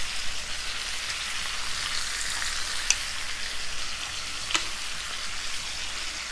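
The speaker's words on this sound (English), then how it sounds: "we're gonna put 2 tablespoons of butter in here to melt, along with half a cup of the Frank's Red Hot" Butter and Frank's Red Hot sauce melt and sizzle in a pan, a soft, steady crackling fry with a couple of sharp pops and no talking.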